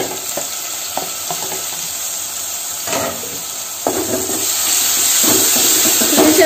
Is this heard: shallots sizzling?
yes